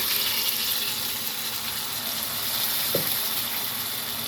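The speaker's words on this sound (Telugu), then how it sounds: "ఇప్పుడు మనం కడిగి పెట్టుకున్న కేజీ చికెను ఇందులో వేసేయాలి" A kilo of washed chicken going into a hot frying pan with onion, ginger-garlic paste and tomato, giving a loud continuous sizzle and hiss throughout, with a single brief scrape partway through.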